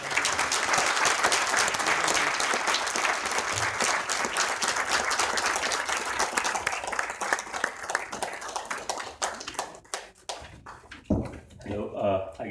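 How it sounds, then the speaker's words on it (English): An audience at a lecture by the Israeli ambassador to India gives a loud, sustained round of applause, which fades over several seconds before a voice speaks at the end. "please join me to give very warm hand to the distinguished ambassador"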